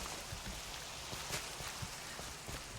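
Minecraft rain falls as a steady, even hiss of drops spread across the whole band, quiet but continuous, with small irregular patters and no voices over it.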